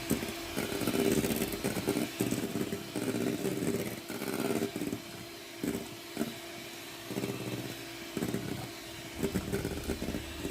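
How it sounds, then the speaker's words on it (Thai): An electric stand mixer whips egg whites for chiffon cake at low speed, giving a steady motor whir with the beater knocking and swishing, pulsing unevenly and fairly close. "ก็ตีจนไข่ขาวของเราขึ้นฟองเนียนแบบนี้นะคะ"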